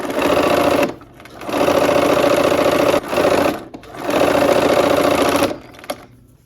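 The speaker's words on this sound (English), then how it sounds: "we're gonna sew from this time the side with the dark blue on top" Sewing machine stitching quilt block pieces with the dark blue side on top, running in two long steady bursts with brief pauses between, loud and close with no talk.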